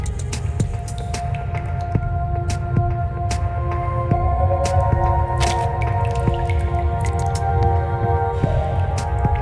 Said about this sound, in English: Water keeps dripping down from the side of the ceiling near the window